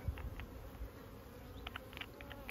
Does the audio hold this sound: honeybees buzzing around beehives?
yes